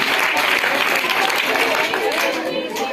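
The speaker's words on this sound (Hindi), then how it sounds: "जोरदार तालियां" At a school general-knowledge quiz, an audience bursts into loud, dense applause that continues for a few seconds with a little crowd murmur.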